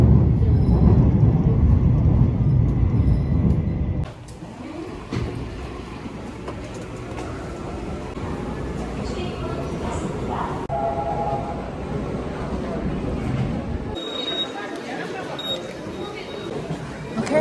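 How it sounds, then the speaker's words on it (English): A subway train on a Myeongdong trip stops, then inches forward to line up with the platform doors: a steady rumble, a sudden drop in noise, then softer rolling and faint chimes, with people chattering nearby. "It's so funny when the train stops and then it has to scooch because it completely missed the doors."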